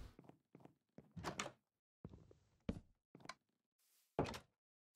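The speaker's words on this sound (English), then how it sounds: "go with a pressure plate as well, just so our doors automatically close" Wooden doors in the Minecraft video game, triggered by a pressure plate, open and close in a rapid series of short, sharp knocks and thunks. Brief silences separate the hits, with faint footstep-like taps between them.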